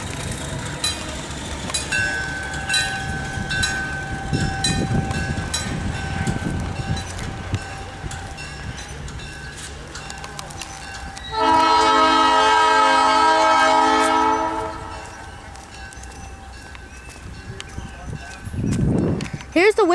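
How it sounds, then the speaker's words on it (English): A Southern Pacific locomotive train passes at a railway museum, rumbling and clattering for several seconds before a loud, sustained horn blast sounds midway, then the rumble fades as a voice speaks briefly over it. "There goes the Southern Pacific."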